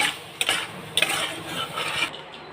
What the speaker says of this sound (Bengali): কিছুক্ষণ নাড়াচাড়া করে নেব।